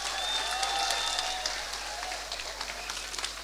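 Applause from a television studio audience for a band on the Indonesian variety show Indonesia Wow, a full steady clapping that thins slightly toward the end, with faint crowd noise and a few scattered cheers.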